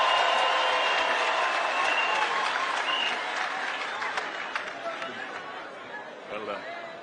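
A crowd at a Kiambu County economic forum breaks into dense, sustained applause to welcome Musalia Mudavadi, with chatter and voices mixed in; the clapping stays loud before gradually thinning out toward the end.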